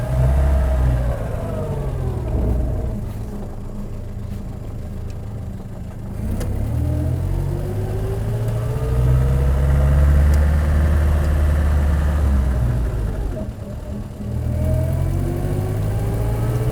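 A Standard 12 Deluxe Saloon with a Wilson pre-select gearbox drones from the engine as it pulls through the gears, the pitch climbing and dropping at each change, heard loud and close.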